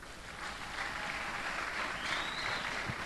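A church congregation applauding and cheering for the Lord, a dense steady wash of clapping from a large crowd with voices mixed in.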